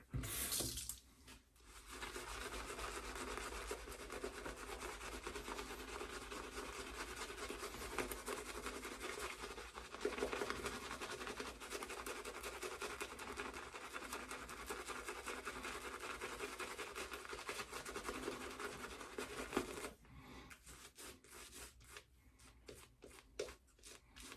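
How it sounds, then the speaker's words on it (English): A brush works Williams shaving soap into a lather in a mug, a steady wet swishing and scratching that runs continuously and fairly close before stopping near the end. "once you get a good lather in the mug going, it'll take a fair amount of water."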